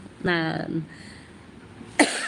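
A voice talks briefly, then after a pause a single short, sharp cough bursts out close by.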